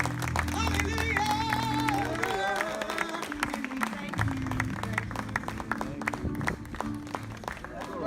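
A congregation at a memorial celebration of life claps and cheers. Crowd voices and music ring out at first, then dense, steady hand clapping carries through to the end.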